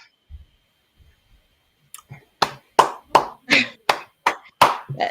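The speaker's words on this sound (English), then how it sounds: "Let's, clap it up." A handful of people clap about nine times in an uneven rhythm, close and fairly loud, after a few faint taps and near silence.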